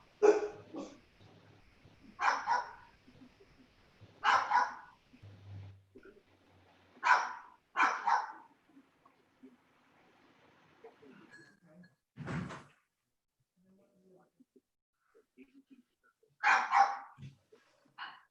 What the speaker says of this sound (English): That's a little puppy. Who is that? One is a pug and one is a boxer.